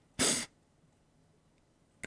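A single sharp, loud human sneeze bursts out near the start, followed by a long stretch of near-silence and a faint click at the very end.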